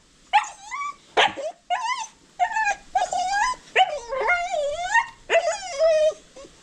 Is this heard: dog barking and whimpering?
yes